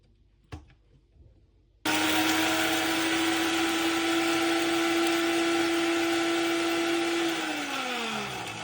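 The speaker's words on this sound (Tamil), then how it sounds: "இப்போ நான் இங்கே கிரைண்டரில் அடிக்கிறேன்." Electric grinder pulverising roasted coconut, pepper and rice: after a faint knock and a short quiet pause, a loud steady motor whine starts abruptly and holds, then its pitch drops slightly near the end.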